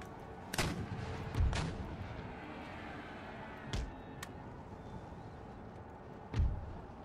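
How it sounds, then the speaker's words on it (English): Artillery fire in the Empire: Total War video game, during a river battle: several booming cannon shots spaced a few seconds apart, some near and some more distant, over a steady battlefield background. "my artillery is going to focus on their artillery"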